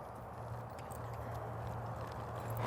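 A horse moves during ranch sorting training, its hooves giving faint, muffled beats against a steady low rumble of background noise.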